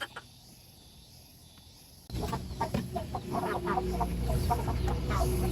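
A chicken clucks in short, repeated bursts after a quieter stretch, fairly close and mixed with background noise and insect chirping; no one speaks over it.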